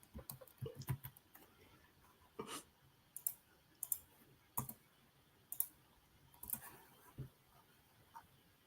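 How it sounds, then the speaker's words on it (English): Fast keyboard typing: sharp, irregular clicks and clusters of keystrokes in quick bursts, close and fairly faint in a quiet room, without speech. "Typing up a storm over there."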